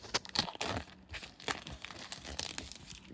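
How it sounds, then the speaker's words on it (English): A football card pack's wrapper is ripped open by hand, giving a brief, close burst of crinkling and tearing foil with no talk. "Can I rip it up now?"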